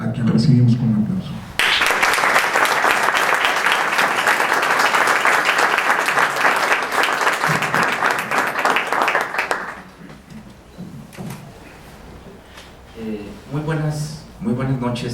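A lecture audience breaks into sustained, dense applause for about eight seconds, in a room with a spoken introduction just before it and a speaker's voice following as the clapping fades.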